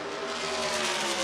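USAC Silver Crown race cars roar around World Wide Technology Raceway, a steady, loud blend of high-revving engines sweeping past in close traffic through the turns, with no voices over it.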